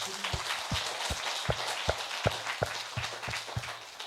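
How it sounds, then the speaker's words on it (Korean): A church congregation at a revival service claps in praise, with about a dozen loud, evenly spaced unison claps in a steady rhythm over a low background hum. "우리 주님께 영광의 박수."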